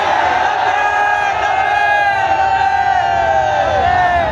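A large Kashmir rally crowd chants a slogan in unison, many voices shouting together in a sustained, loud roar that holds steady from start to end with a slightly rising, swelling pitch.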